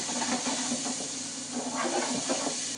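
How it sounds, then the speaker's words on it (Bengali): Chopped onion and garlic sizzle in a hot pan, giving a steady, even hiss that holds at an unchanging level throughout, with no voices. "প্রথমে আমি পেঁয়াজ কুচি ঢেলে দিলাম এবং রসুন দুটো একসাথে"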